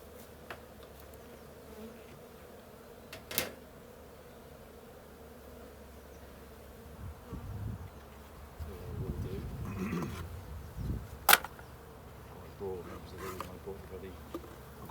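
Buckfast honey bees buzz faintly around an open hive, a low, continuous drone with occasional louder passes and a few knocks, with quiet voices in the background.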